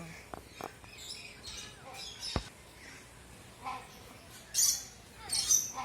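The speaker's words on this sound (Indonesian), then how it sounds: "Burung rangkong." Hornbill calling at a zoo: a few short, sharp squawks and chirps at moderate distance, separated by pauses, with a louder burst near the end and quiet background noise.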